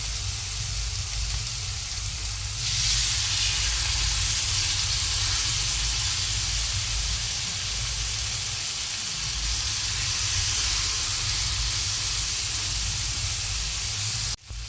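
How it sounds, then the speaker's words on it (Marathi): Chicken steak sizzles in a pan over a medium flame, a steady loud hiss and crackle of frying that runs unbroken throughout. "मीडियम फ्लेमवर 5 ते 6 मिनिट आपण हे स्टिक आपले फ्राय करून घेणार आहोत"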